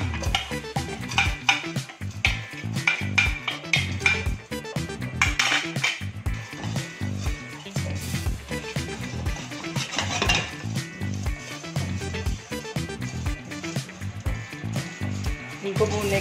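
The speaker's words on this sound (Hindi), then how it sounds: "सबसे पहले मैं इनको भून लेती हूँ सारे मसाले।" Whole spices dry-roasting in a pan for beef and chicken tikka, with rapid metal scraping and clattering of a spoon against the pan in a busy irregular rhythm, a faint sizzle underneath and no talking.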